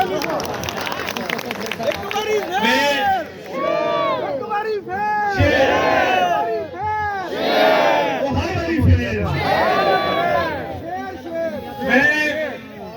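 A large outdoor crowd at a political election rally in Pakistan's NA-127 constituency roars, cheers and chants in rising and falling waves, loud and sustained, with voices shouting over one another.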